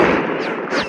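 A single loud gunshot from a video game sniper match, a sharp close blast that decays quickly within under a second.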